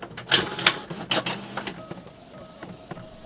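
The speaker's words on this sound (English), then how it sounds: "This is my ancient Canon MP980, which is probably nearly as old as I am, and I'm just loading it with the glossy paper" An old Canon MP980 inkjet printer runs a print job on glossy sticker paper, giving a series of close, loud mechanical whirs and clunks from paper feed and print-head passes, with no talking.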